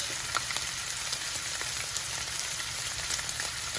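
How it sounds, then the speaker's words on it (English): Turkey sausage frying in a pan gives a steady, close sizzle and crackle that holds at an even level throughout, with faint pops and no voices. "we're going to cook the turkey sausage"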